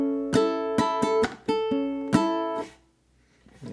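A ukulele is fingerpicked through the final bar of a fingerpicking etude, a quick run of crisp plucked notes and chords, close and clear, ending in a short rest.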